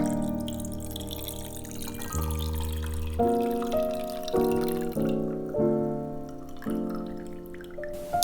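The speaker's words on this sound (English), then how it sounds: "Pouring the drink to the glass." A cocktail poured into a rosemary-smoked glass, close and clear, with rising gurgling glugs in a series of stepped bursts as the glass fills, no talking.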